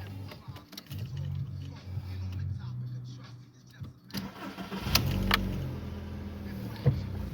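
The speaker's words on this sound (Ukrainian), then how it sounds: "зараз я продемонструю, як заводиться автомобіль" A 2004 Skoda Octavia Tour 1.6 MPI engine cranks and catches, then settles into a low idle, with some quiet handling noises and a voice nearby.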